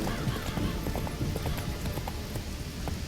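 Hoofbeats of Roach, Geralt's horse in The Witcher, galloping steadily in a close, continuous clip-clop rhythm with heavy low thuds over a dense rumbling background, no voices present.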